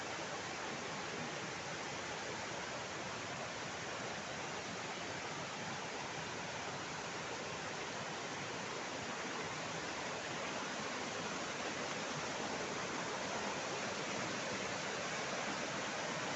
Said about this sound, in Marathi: हा छोटासा खळखळणारा खळा हे आहे झरा आहे पाणी असं वाहतं आहे